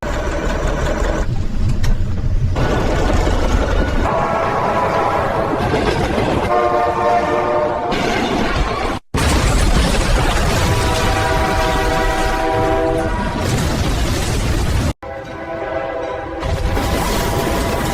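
Metra commuter train passing at close range, a loud continuous rumble with long sustained horn blasts sounding over it through most of the stretch.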